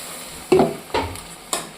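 Fish heads go into a hot pan of oil and are stirred, making three quick, close scraping sizzles in a row over a low background hiss.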